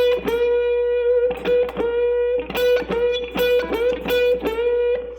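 Electric guitar with a sustained distorted note, repeatedly picked and bent, with short rhythmic string attacks in between; no voices.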